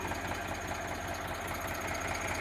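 A silver Eicher 368 tractor with a Ricardo engine runs at a steady idle, its rapid even diesel knock close and clear with no talk over it.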